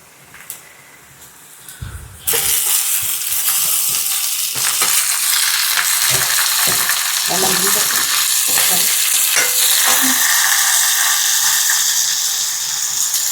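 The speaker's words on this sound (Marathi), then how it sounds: "व्यवस्थित होऊ द्यायचं तेलामध्ये।" Tomatoes sizzle loudly as they fry in oil on a wood-fired stove, a steady crackling hiss that jumps in after a quiet start, with occasional stirring scrapes and no talk.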